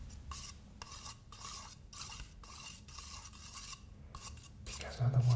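Paint being stirred inside its tin, rhythmic scraping and swishing strokes repeating about every half second, close and fairly loud, with a brief low knock at the end.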